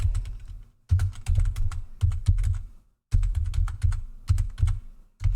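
Typing on a computer keyboard sits on the same desk as the microphone, giving close, crisp key clatter in quick bursts that stop twice for brief pauses before resuming, with no voices.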